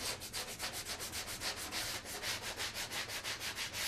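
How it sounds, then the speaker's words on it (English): Steady back-and-forth rasping of a sanding block scrubbing foam, in quick regular strokes, close and fairly loud with no voices. "Use the sanding block to get off all of these little rough nubs that come up on the foam"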